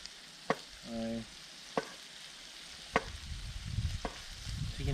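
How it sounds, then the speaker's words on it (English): Bacon sizzles and crackles steadily in a hot pan at a lakeside campsite, with a few sharp clicks and taps of a utensil scattered throughout. "you can hear that sizzling"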